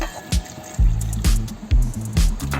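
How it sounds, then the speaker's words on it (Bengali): Half a cup of water is poured into mango puree in short splashy bursts, with wet liquid gurgles and drips close by, several separate pours starting and stopping over a few seconds. "তার জন্য এখানে দিয়ে দিচ্ছি হাফ কাপ জল"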